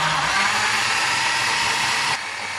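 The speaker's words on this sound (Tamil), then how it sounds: "இப்போ மிக்ஸி மாட்டியாச்சு ஜாரில்." A mixer grinder blends strawberries, banana and milk into a milkshake with a loud, steady, high whirring roar. The pitch and volume dip slightly near the end as the motor load shifts.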